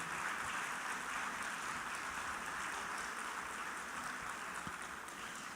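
A church congregation applauding during a worship service, a continuous even roar of many hands clapping at moderate distance, steady and unbroken throughout.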